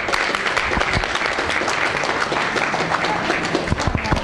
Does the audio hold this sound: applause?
yes